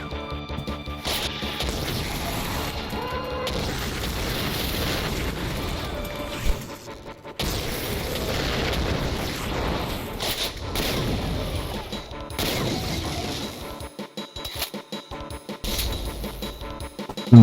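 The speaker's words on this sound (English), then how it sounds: "Thought I would be able to get up there by using my quad rocket launcher." Quad rocket launcher explosions from the 1995 MS-DOS game Realms of Chaos: repeated loud, crunchy blasts and smashing impacts in dense bursts, with short gaps, over continuous game sound.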